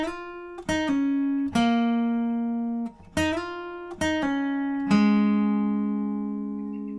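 Fingerpicked acoustic guitar playing the intro lead of a song, clear plucked notes with ringing open strings in a gentle, uneven rhythm, close and alone without voices.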